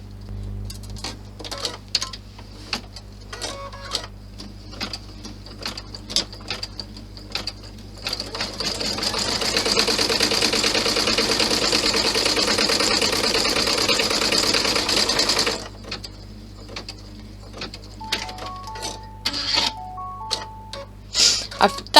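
Sewing machine stitching a purse: scattered ticks and clicks, then a steady whirring run of about seven seconds that stops abruptly, followed by more clicking.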